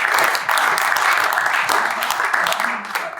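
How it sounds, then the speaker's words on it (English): Audience applause at a lunch debate during the Munich Security Conference 2025, a steady, dense clatter of many hands filling the room for about three seconds with no talk over it. "Please give her a round of applause."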